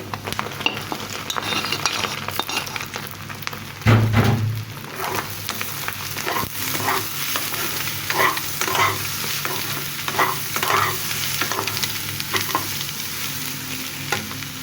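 Drumstick stalk bhaji stir-fried with egg in a pan: steady oil sizzle with repeated scraping and clinking of a spatula stirring, a rhythmic series of strokes, close and fairly loud, with no talking.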